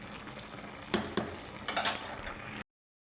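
A cooking pot of boiled taro leaves is lifted off the stove, giving a couple of faint metallic clinks and knocks against a quiet kitchen background.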